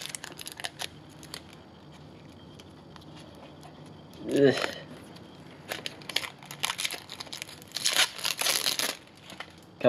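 Plastic wrap is crinkled and torn off a sealed playing card deck close up, with one louder rustle midway and a flurry of sharp crackling tears toward the end.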